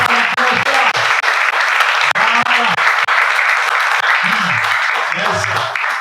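A church congregation applauds and cheers during a worship service, steady broadband clapping filling the room for about six seconds while a voice speaks over it.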